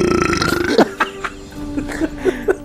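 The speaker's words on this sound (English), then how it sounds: "Burping's funny." A person lets out a long, loud burp after drinking soda, followed by several shorter croaking belches in an uneven run, close up with no talking.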